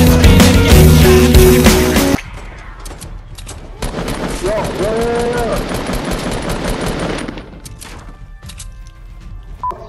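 Automatic gunfire in a Fortnite battle royale match, a dense loud burst in the first two seconds, then scattered shots and game effects under excited talk from players.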